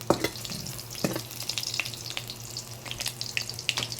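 Food cooking in a pan indoors, a steady low sizzle and frying hiss running throughout with scattered clinks and stirring scrapes, close and moderately quiet, no talking.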